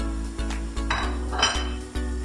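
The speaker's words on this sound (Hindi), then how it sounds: "चलिए अब लोग इसमें हम लोग चिकन डाल देते हैं जो फ्राई करके हमने रखा हुआ था।" Fried chicken pieces tumble into a metal pan for Chicken Manchurian, giving a few dull clanks and scrapes against the pan over a steady low hum, with no talking.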